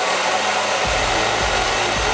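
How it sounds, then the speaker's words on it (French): A hair dryer blows a steady, loud, even rush of air, heating tissue paper while customizing candles; it starts at full strength and keeps blowing without pause, with no talking. "vous utilisez votre sèche-cheveux"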